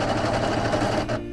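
A serger overlocking the edge of a chenille pillow, a rapid loud mechanical chatter running steadily, close up, then stopping abruptly near the end.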